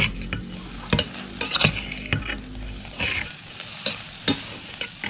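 Grasshoppers dry-roast in a pan without oil, stirred by hand, with repeated sharp scraping and clattering strokes at an uneven pace over a light dry rustle, close by and fairly loud, with no talking.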